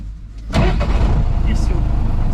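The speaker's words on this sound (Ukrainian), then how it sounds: "Запускається у нас трактор з кнопочки." An MTZ tractor engine is started with a push button, a brief starter crank followed by the diesel catching into a steady, rumbling idle close by.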